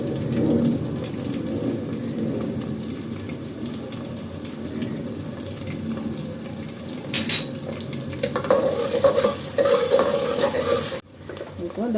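Ginger garlic paste frying in a pan, a steady close sizzle under stirring and scraping, with a brief splash of running water near the end.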